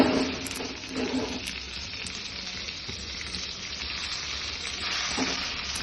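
Onions and tomatoes fry in a pan for upma, a continuous close sizzle with a few soft stirring scrapes and no speech.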